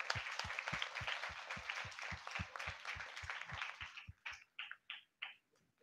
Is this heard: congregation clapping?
yes